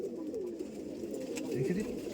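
Madras pigeons coo softly and close by in a continuous low murmur, with faint background voices.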